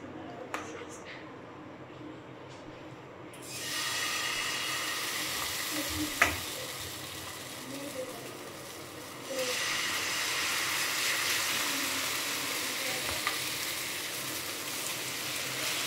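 Food goes into hot oil after a quiet start, setting off a loud, steady sizzle that grows stronger about halfway through, with a few small pops and voices at times.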